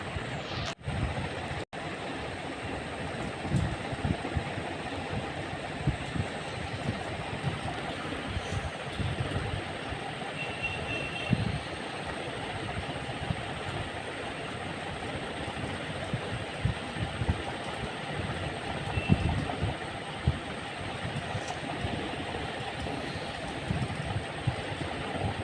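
A train rumbles past nearby with a steady rolling roar and faint clatter that swells and fades over about twenty-five seconds, outdoors with no talk.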